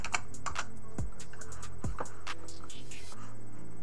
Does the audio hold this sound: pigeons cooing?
no